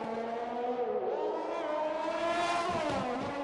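A GP2 race car in a PS5 racing game revs hard through its gears, its engine pitch rising and dipping in a loud continuous whine, with tyre scrubbing near the end.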